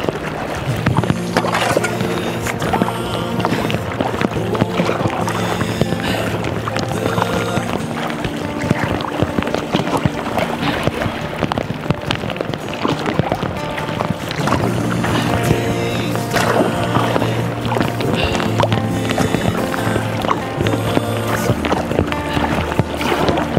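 A homemade reed boat paddled on open water, with rhythmic paddle strokes splashing and swishing close by over a continuous wash of water, steady and fairly loud throughout.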